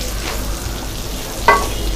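Small onions sautéing in a pan over a low simmer, a soft steady sizzle with a brief scrape of stirring midway.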